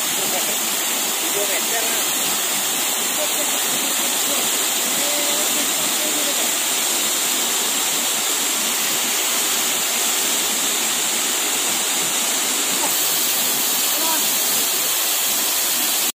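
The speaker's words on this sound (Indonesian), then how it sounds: "Air terjun Timbulun 7." Timbulun Tujuh waterfall in Sibakur roars as a loud, unbroken broadband rush of falling water, steady and close throughout with no pauses.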